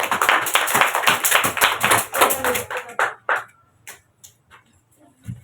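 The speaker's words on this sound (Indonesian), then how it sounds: "untuk kelompok 2 kita kasih tepuk tangan" A classroom of students applauds a student group after its problem-based learning presentation; a burst of dense clapping rings for about three seconds, then thins to a few scattered claps and quiet.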